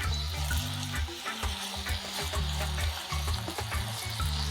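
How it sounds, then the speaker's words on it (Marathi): Potato cubes frying in oil until golden, a continuous dense sizzle with low bubbling rumble and occasional small clinks, close and fairly loud with no voices. "तर हे आता आपण फ्राय करून घेऊया गोल्डन ब्राउन होईपर्यंत"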